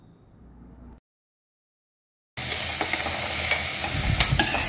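Chopped tomatoes and carrots with browned onion sauté in a pan for tomato soup, a steady close sizzle with stirring scrapes after a short quiet start and a gap of silence.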